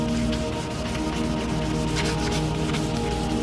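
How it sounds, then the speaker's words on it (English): Wet sanding of a headlight lens with 800 grit sandpaper makes a steady close rubbing swish, heard over a constant loud hum throughout. "We're going to go one direction with 800 grit sandpaper."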